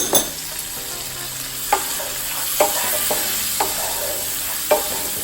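Frozen cooked clams sizzling in a pan of sauce for miso and truffle butter pasta, a steady hiss punctuated by a few sharp stirring clicks and scrapes, close and without speech.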